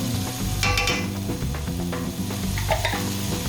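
Minced garlic and fresh rosemary sizzle loudly in a pan, a dense continuous fry with bursts of stirring scrapes and clatter near the start, close and steady with no talking.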